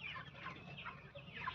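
Chickens cluck and murmur inside a village coop enclosed with wire mesh, several birds making soft overlapping clucks and calls at a low, steady level, a little distant, with no talking.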